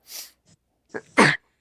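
A single sharp sneeze bursts out near the end, preceded by a few short breathy intakes; no talking.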